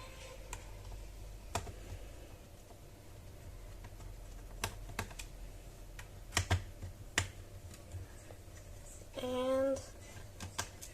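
Small screws are worked loose from a gaming laptop, scattered sharp clicks and ticks of the screwdriver over quiet room noise, ending in a brief whirring buzz near the end.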